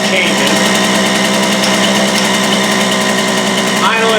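A 1982 Sachs Eagle 1 moped's two-stroke engine idles a little high, giving a steady, close, buzzing drone that holds even and continuous throughout with no talk over it.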